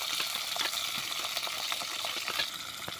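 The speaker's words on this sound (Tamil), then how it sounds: "ஆயில் காஞ்சிருச்சு நம்ம கத்திரிக்காயை போட்டு வணக்கி எடுத்துக்கலாம்" Kandangathiri eggplant sautés in hot oil in a pan, a soft, continuous sizzle broken by frequent scraping clicks from stirring.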